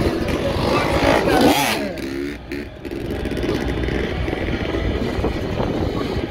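A stunt motorcycle at an outdoor bike show revs loudly up close, its back fender scraping along the pavement, engine roar rising and dipping over several seconds.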